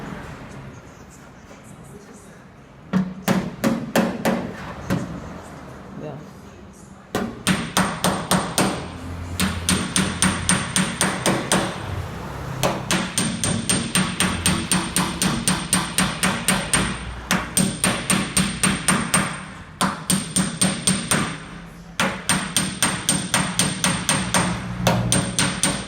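Small hammer tapping a round-headed tap to knock out a car body dent, long runs of rapid, evenly spaced sharp metallic knocks, close and loud, with brief pauses between the runs.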